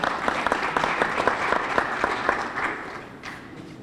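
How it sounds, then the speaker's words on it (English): An audience at a news conference for the film Nightmare Alley gives a round of applause: dense, fairly close clapping that holds steady and then tapers off toward the end. "So let's give them a round of applause on that."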